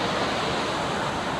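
A steady, dense rush of flowing river water beside a hiking trail in Linville Gorge, continuous and fairly loud with no pauses.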